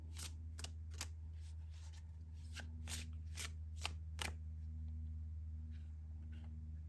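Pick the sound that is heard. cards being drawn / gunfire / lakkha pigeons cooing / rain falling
cards being drawn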